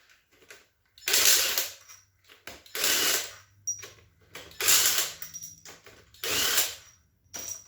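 A ratchet wrench backs out the bolts holding the pump in a 4L60E automatic transmission, sounding in four long bursts of loud, rapid clicking separated by short pauses, close and with no talk.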